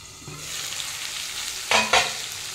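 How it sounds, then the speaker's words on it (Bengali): Potatoes and tomatoes frying in a pan of oil give a steady low sizzle, with two sharp bursts of hissing near the end as the pieces are stirred. "আমার আলুটা ভাজা হয়ে গেছে"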